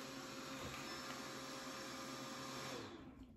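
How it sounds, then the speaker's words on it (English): A Bidet Mega 400 warm-air dryer blows with a steady, loud, constant whoosh and a thin high whine, running unbroken before cutting off and fading away at the end. "That is a blow dryer for your butt."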